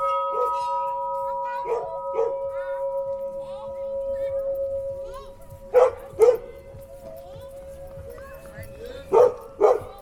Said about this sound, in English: You've got a dog bark in the background constantly and all these bells